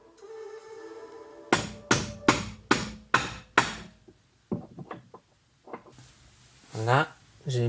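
An axle being driven into a bearing by hammer, six sharp evenly spaced metallic blows, followed by a few lighter knocks and someone speaking briefly.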